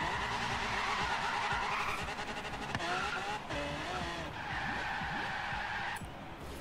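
A powerful car drifts in Forza Horizon 3, its tires squealing in long wavering screeches over a continuous engine drone, with the pitch sliding up and down through repeated slides and a short break near the end.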